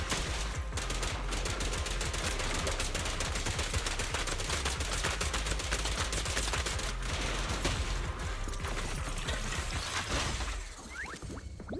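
Rapid bursts of turret gunfire in a video game, dense mechanical clatter and rattling shots running loud and continuous for about ten seconds before dropping off abruptly near the end.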